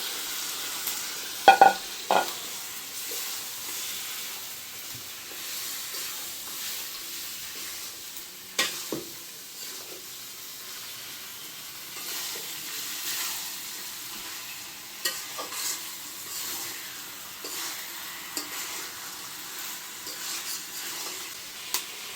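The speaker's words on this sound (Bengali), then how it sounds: "এখন আমি মাংসগুলো দিয়ে দেব" Chicken pieces frying in a pan of cooked-down spice paste with oil risen to the top, a steady soft sizzle broken by a few sharp utensil clinks and stirring knocks.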